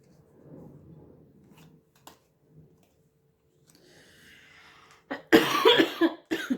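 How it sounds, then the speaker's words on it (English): A burst of loud coughing near the end, a few harsh hacks in quick succession, after quieter rustling and soft handling noises. "Excuse me for coughing."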